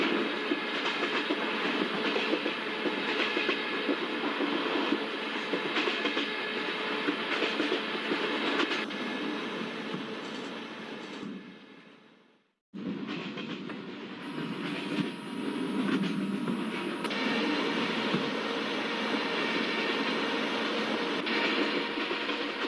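The 16335 Nagarcoil Express speeds through Umroli station, heard as a loud continuous rumble and rhythmic wheel clatter, with a sudden brief dip before the roar resumes.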